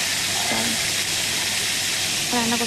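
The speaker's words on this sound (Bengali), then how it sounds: "পেঁয়াজগুলো তোলার পরে মাংসটাকে ভেজে নেব" Chicken meat sizzling in a frying pan after onions are removed, a steady loud hiss of frying throughout, with brief spoken voice fragments near the start and end.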